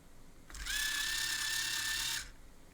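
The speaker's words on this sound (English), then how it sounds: "That makes the right motor go forward." A small electric drive motor on a robot chassis spins up with a sharp start, whines steadily at a constant pitch for about a second and a half, then cuts off abruptly; faint and close, no talking.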